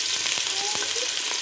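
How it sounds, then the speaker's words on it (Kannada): Onions frying in hot oil as tempering for a chicken sambar, a dense continuous sizzle close by with a few faint scrapes of stirring. "ಈಗ ನಾನೀಗ ಒಗ್ಗರಣೆಗೆ ಈರುಳ್ಳಿ ಹಾಕ್ಕೊಂಡೆ"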